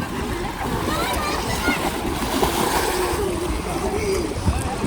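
Children bathing in the Yamuna river make splashes against a constant wash of flowing water, and voices run under the whole stretch.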